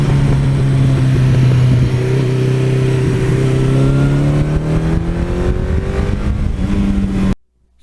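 A 1982 Suzuki GS1100E motorcycle rides along with a loud, steady engine drone that slowly rises in pitch as it pulls through the gears, with wind rush throughout, before the sound cuts off abruptly at the end.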